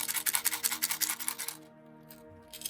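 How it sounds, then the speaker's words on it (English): Lead beads rattle inside a hollow 3D-printed crankbait fishing lure, a loud, rapid shaking clatter of bursts for about a second and a half, then stopping into near quiet. "the lead beads that I dropped in there while it was printing rattle itself"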